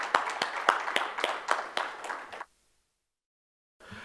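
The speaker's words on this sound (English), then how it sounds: "Let's give him a round of applause" An audience at a fund administration industry conference claps in quick, evenly spaced hand claps for a couple of seconds, then falls silent before a brief faint sound at the end.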